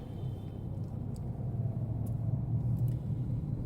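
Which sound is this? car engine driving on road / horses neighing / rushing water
car engine driving on road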